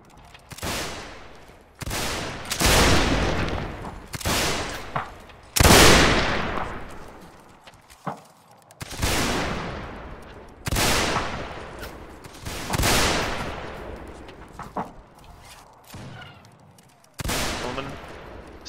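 Musket volleys from a reenactment infantry regiment of the 32nd Regiment of Foot crack out repeatedly, each a loud ragged burst with a rumbling tail, following one another every few seconds at fairly close range.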